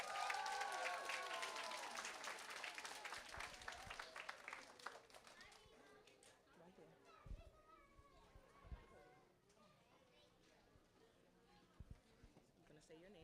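Audience applause at a kindergarten step-up ceremony at Merrick Academy, loud clapping at first that fades after a few seconds into children's chatter and a murmuring crowd.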